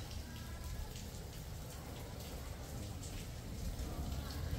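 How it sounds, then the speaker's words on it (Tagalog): Steady rain falling, a dense even hiss with soft patter that swells slightly toward the end; no voices stand out. "Kahit na umuulan siya, wala tayong problemahin"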